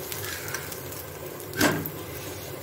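Dosa batter sizzles on a hot appam pan as the dosa is flipped, a steady soft crackle with a brief louder scrape and hiss at the turn.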